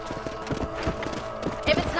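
Horse hooves clip-clop on the ground in the Red Dead Redemption video game, a quick irregular run of close, fairly loud hoof thuds under speech.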